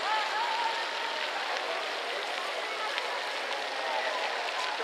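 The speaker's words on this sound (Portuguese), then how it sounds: "Ó, a coisa d'água passando." Water rushing steadily past outdoors in Paris, a continuous broadband wash close by, with faint talk underneath.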